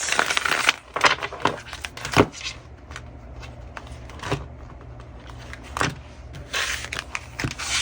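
Tarot cards are shuffled and cut close by, with bursts of crisp riffling and flicks separated by quieter pauses and a few soft taps.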